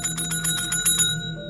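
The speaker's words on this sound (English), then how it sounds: "After ringing the table bell for almost a minute" A table bell at a motel reception desk is struck repeatedly in quick succession, about eight bright metallic dings, and then left to ring out for a moment.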